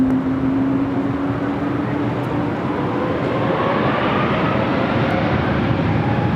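A Frontier airliner takes off from runway 24 left at LAX, its jet engines a loud, continuous roar that builds with a rising whine as it accelerates, heard without any talk over it.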